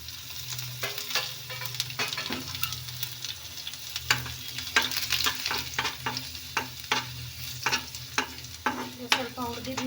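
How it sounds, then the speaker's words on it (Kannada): Crushed garlic and curry leaves frying in a pan with oil on low heat, a steady crackling sizzle broken by repeated sharp clicks and scrapes of a stirring spoon, close and alone. "ಇದು ಚಚ್ಚಿರೋ ಬೆಳ್ಳುಳ್ಳಿ ಹಾಕ್ತಾ ಇದ್ದೀನಿ. ಹಾಗೆ ಕರಿಬೇವು ಸೊಪ್ಪು ಕೂಡ ಹಾಕ್ತಾ ಇದ್ದೀನಿ."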